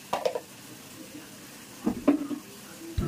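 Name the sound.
dried red chillies and spices frying in oil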